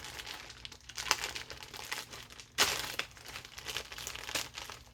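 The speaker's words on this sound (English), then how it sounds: "Okay, I cut open the mailing envelope, but I didn't actually look inside." A paper mailing envelope from a yarn shop being handled and cut open up close, with soft crinkling and rustling and one sharper tearing crackle partway through, fairly quiet.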